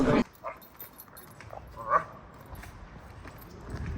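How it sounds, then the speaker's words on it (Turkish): A dog gives a sharp bark at the start, followed by a few softer yips and whimpers, with quiet background noise and no talking. "Aman başka köpek de var burada."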